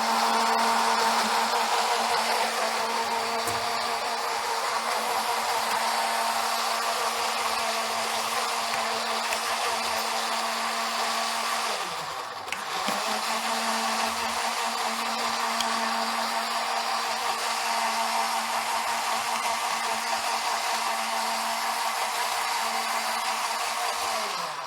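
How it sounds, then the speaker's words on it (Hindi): A kitchen blender whirs continuously while blending a date shake, a loud, steady motor roar that briefly dips and restarts midway before running on to the end, with no voices over it. "हम इसको ब्लेंड करेंगे"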